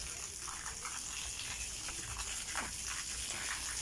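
Water from a shower at a resort runs in a continuous, even hiss, steady and moderately loud from start to finish.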